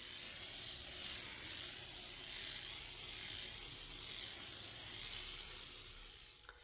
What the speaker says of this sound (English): I'm going to just spray a coat of polyurethane on it